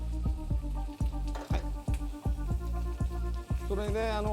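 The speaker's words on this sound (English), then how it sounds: "We add the mushrooms and keep stirring." Mushrooms sizzle and fry in oil left over from frying meat, stirred in a pan for Japanese hambagu sauce, with steady crackling and repeated scraping strokes of the spoon at close range.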